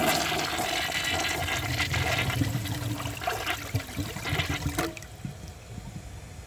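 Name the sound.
Mansfield Alto toilet flushing with dish towel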